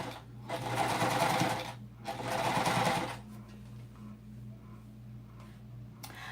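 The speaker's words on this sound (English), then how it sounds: "with the serger, it cuts off fabric" Serger sewing machine stitching through thick minky blanket fabric, two loud close bursts of rapid mechanical whirring, each about a second long, followed by a quieter pause with faint talking over a low hum.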